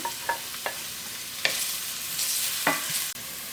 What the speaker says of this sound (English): I'm gonna cook the onion first until it's slightly brown.